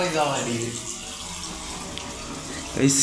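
Water runs from a pipe with a continuous splashing rush, close by and fairly loud, and a voice briefly overlaps it.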